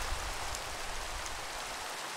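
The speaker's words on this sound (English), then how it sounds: "and it's raining." Steady rain in the Minecraft modpack SevTech Ages video game, a constant even hiss of falling water with no breaks or voices.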